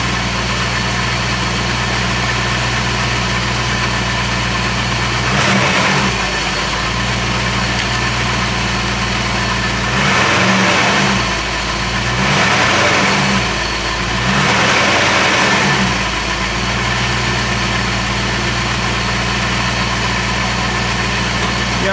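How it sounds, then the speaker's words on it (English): A Porsche 928 V8 engine idles with a steady low burble, then revs sharply several times, each blip rising and falling back to idle. "I blip the throttle, it revs up, comes back down."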